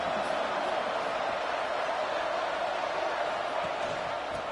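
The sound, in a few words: football stadium crowd cheering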